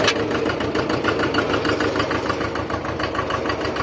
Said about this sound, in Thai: เดี๋ยวไฮดรอลิกลงนะครับ ไฮดรอลิกลงปกตินะครับ ลงสุดนะครับเดี๋ยวยกขึ้นนะครับ